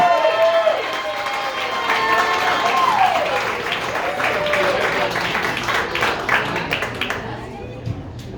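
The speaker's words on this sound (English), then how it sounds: "Put your hands together for Phyllis Varin, everyone." Audience applause at a comedy show in a bar, clapping and cheering rising and sustained at full loudness, with voices calling out over it and a whoop near the start.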